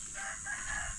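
Farm chickens give a short, close clucking and crowing call, briefly and fairly clearly, with no talk over it.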